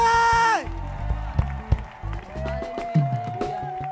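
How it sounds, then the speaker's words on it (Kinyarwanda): An audience at a church choir performance bursts into clapping and cheering after a sung note cuts off. Scattered claps and shouts continue in uneven bursts, fairly close. "Amashyi menshi."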